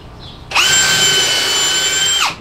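A power drill bores a hole in wood for a rustic wavy American flag. A sudden loud, high motor whine holds steady for nearly two seconds and then winds down, close up and alone.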